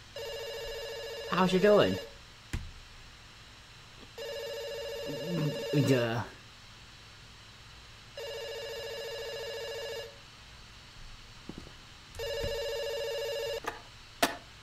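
A telephone rings in the video game Dr Langeskov, repeated electronic ring bursts of about two seconds each with pauses between them. Someone talks briefly over the first rings.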